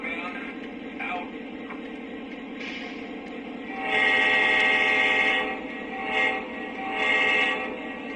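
A Lionel Legacy ES44 GEVO model diesel locomotive sounds several blasts of its multi-tone horn over a steady engine hum, the bursts loud and uneven in length.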